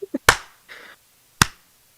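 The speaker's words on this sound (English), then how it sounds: "Oh good, and the slow clap mod is still working." Slow clapping from a mod in the video game Portal 2: two sharp, isolated claps about a second apart, preceded by faint small taps.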